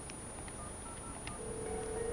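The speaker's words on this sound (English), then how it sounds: "just dial the extension and hit transfer right away" Short, faint DTMF beeps as an extension is keyed in on an office desk telephone, a few separate tones in a row over a low steady hum.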